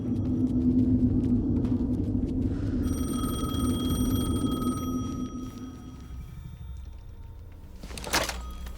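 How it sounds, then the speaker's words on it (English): An in-game telephone rings in Alan Wake 2, steady high bell tones layered over a deep ambient rumble with a sharp thunk near the end, fairly loud and without speech. "The phone again."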